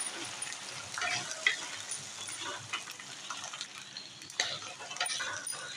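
Chopped onions stirred and sautéed in a pan while cooking spicy okra with potatoes, a faint continuous sizzle with scraping and stirring knocks of a spoon, close and quiet, with no talk.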